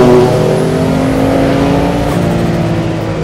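Porsche 962 Le Mans race car engine pulling hard under acceleration at high speed, a loud, continuous onboard drone with steady harmonics that climb gradually through the run.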